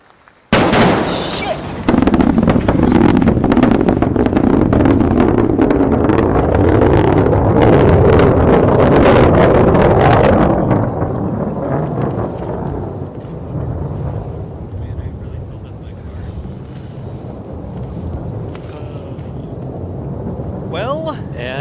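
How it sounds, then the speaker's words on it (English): Sonic booms from a SpaceX Falcon 9 first stage returning to land at Landing Zone 4: a sudden loud blast opens, then a sustained broadband rumble follows, gradually fading into a long, lower roar. "Sonic boom should be just before landing here."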